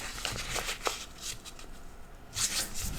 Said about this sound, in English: I'm just going to fold it corner to corner, just like I did with the first